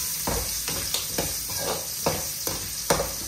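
Green chilies frying in hot oil with garlic and asafoetida for an Andhra dal, a steady close sizzle broken by regular rhythmic scrapes of a spoon stirring the pan.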